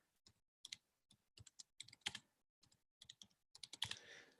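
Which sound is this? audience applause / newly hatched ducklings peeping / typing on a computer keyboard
typing on a computer keyboard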